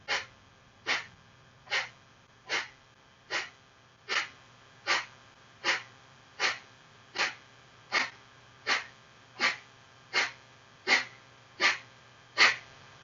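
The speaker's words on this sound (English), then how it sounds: "Take a deeper breath in, and we'll do 20 Kapalabhatis" Sixteen rapid, forceful nasal exhales of Kapalabhati yoga breathing come in a strict, even rhythm about one per second, close and clear against a quiet room, with no voices.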